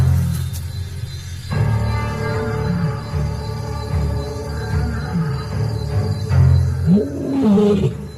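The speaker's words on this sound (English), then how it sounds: "The roars reveal the pride male's position, far from the lionesses and the cubs." A pride male lion roars at night across the savanna, a deep, loud series of rumbling calls that swell and fade over several seconds against a faint insect backdrop.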